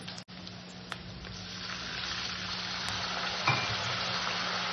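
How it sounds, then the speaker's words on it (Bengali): Ground cumin, coriander, turmeric and chilli powders frying with a splash of water for mutton curry, a faint steady sizzle that builds gradually, with a brief clatter partway through. "এবার মশলাটাকে আমি ভালো করে কষে নেব।"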